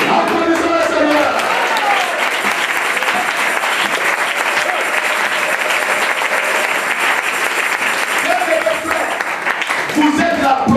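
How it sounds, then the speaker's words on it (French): Church congregation applauding during a worship service, sustained dense clapping from a large crowd throughout, with faint voices and cheers mixed in at the start and end. "Applaudissons le Seigneur."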